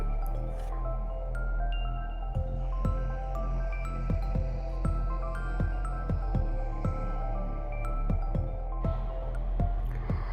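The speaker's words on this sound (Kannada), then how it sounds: "ಇದನ್ನು ಸ್ವಲ್ಪ ಅರಿಶಿನ ಪುಡಿ ಮತ್ತು ಹುಣಸೆ ನೀರು ಹಾಕಿ ಸ್ವಲ್ಪ ತೊಳೆದಿಟ್ಬಿಡೋಣ" Shark dry fish is washed by hand in turmeric and tamarind water, with soft squelching and splashing at a steady, repeated rhythm close by, over a constant low background hum and with no speech.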